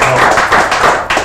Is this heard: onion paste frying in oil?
no